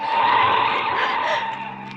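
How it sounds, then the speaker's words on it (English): Car tires skid and squeal loudly and continuously as a car twists and swerves, a sustained screeching tone over engine rumble in a 1940s suspense radio drama. "The car twisted and swerved."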